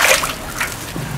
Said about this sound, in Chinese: 水开了，